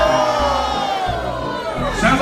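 A comedy club audience cheers and whoops loudly in agreement, a close burst of mixed crowd shouting that swells and trails off over about two seconds.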